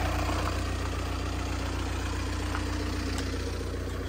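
A VW Passat 2.0 TDI diesel automatic with front-end damage idles steadily, giving a close, even, continuous rumble with a faint knocking clatter and no talking.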